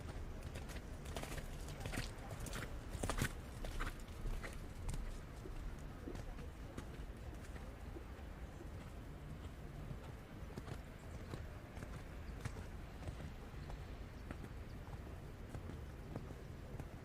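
A horse canters in a dressage arena during a junior eventing championship, its hooves giving a steady, fairly faint clip-clop rhythm in the distance through continuous outdoor ambience, with commentary talk heard over the top.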